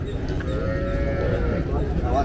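Cattle lowing amid the dense, steady crowd din of a weekly native-breed cattle market at Pazhayakottai, continuous over the whole stretch.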